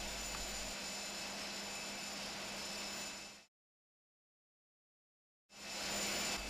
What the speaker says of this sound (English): the loud noise you hear in the background is the APU, which is just as noisy as in real.